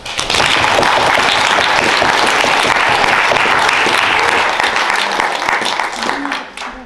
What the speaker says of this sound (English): can I have one more round of applause to everybody who spoke